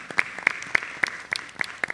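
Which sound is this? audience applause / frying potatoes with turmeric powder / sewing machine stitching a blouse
audience applause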